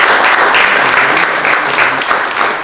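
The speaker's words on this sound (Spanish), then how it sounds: "El señor Villalba, quisiéramos agradecerle un fuerte aplauso por su" Sustained applause from an audience at a university question-and-answer event, a dense steady clatter of many hands clapping filling the room at close range with no talk over it.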